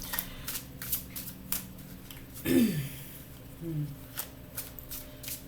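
Tarot cards riffle and snap in repeated quick bursts of shuffling, close by, with a brief low voice-like sound partway through.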